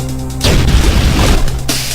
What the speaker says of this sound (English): That one causes a much larger explosion